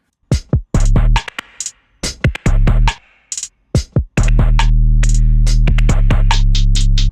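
Hip-hop beat with a deep 808 bass layered in, booming sustained low notes under punchy drum hits and sharp percussion, loud and up close with no talking.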